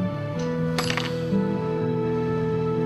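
Old hidden coins dropping with a couple of bright metallic clinks, the loudest clink near the start, then fading into a steady low background drone.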